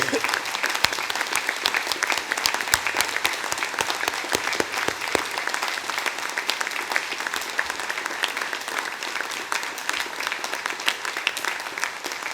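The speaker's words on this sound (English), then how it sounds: "can I ask one last time for all of our graduates to stand and for everyone here to join me in giving them a huge round of applause" A large audience at a university degree ceremony in Torquay gives graduates a long, loud round of applause, dense continuous clapping sustained at full strength with crisp individual claps standing out near the front.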